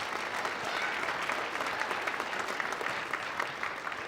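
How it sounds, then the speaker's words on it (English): Steady applause from an audience at an elementary school performance for grades 1 and 2, a dense, even wash of clapping that holds for several seconds without letting up. "So let's give them all a big round of applause."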